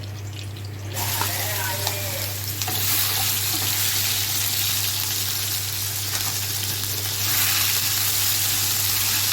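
Garlic drops into a pan of Egyptian country ghee and oil and sizzles steadily and close, the frying hiss swelling once it starts and continuing evenly, with some speech over it.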